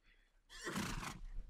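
A horse in the medieval video game Mount & Blade gives a single loud, close whinny lasting about a second, followed by a brief low snort.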